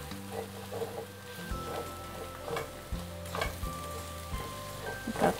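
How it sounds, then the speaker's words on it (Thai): Korean paprika chili sauce stir-fried for Lao khao soy, a steady close sizzle broken by repeated scraping strokes of a spatula against the pan, with faint tonal hums in the background. "ก็คั่วผัดไปให้มันเข้ากันแบบนี้"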